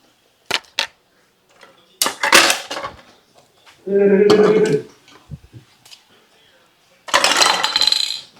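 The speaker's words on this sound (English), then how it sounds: "Put all those dishes over there in the sink. Those dirty dishes." Dirty dishes are moved into a kitchen sink while a grape salad is being made. Several separate bursts of ceramic clatter and clinking cutlery come up close, with short quiet gaps between them.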